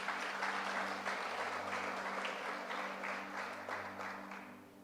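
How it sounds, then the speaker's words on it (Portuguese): Congregation applause during a church sermon, a dense, even clapping from many people at moderate distance, beginning full and slowly fading, over a faint steady hum. "Pode aplaudir, pode aplaudir."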